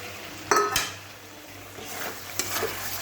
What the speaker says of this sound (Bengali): এখানে যে ডিম, পেঁয়াজ, টমেটো ভেজে রাখা ছিল সেটাও দিয়ে দিলাম